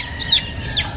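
Chicken chicks give two quick, high-pitched chirps in close succession, near and fairly clear over a faint low background rumble.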